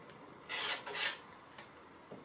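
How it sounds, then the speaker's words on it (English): Quilting fabric is trimmed with a couple of brief, close rasping strokes and softer scrapes, quiet and separated by pauses, with no one talking. "So I'm just going to trim this one as well."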